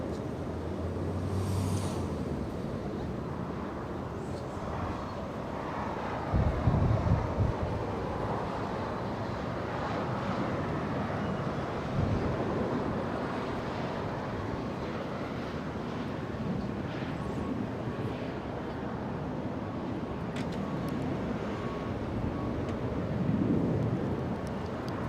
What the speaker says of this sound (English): We have the Turkish Dreamliner taking off in the next few seconds